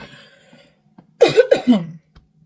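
A few sharp, dry coughs close to the microphone, clustered in a quick burst after a quiet pause.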